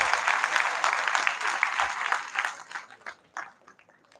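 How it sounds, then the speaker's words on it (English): Audience applause at a conference session, a dense burst of many hands clapping that thins out and fades to scattered claps toward the end. "Please welcome him with a huge round of applause."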